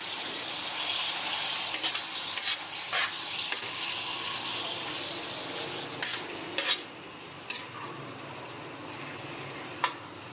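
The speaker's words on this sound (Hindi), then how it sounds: "अब हम कलेजी की भुनाई कर लेंगे" Half a kilo of beef liver frying on a hot tawa, dhaba style, with a steady sizzle and occasional scraping stirs of a spatula, close and alone with no talk.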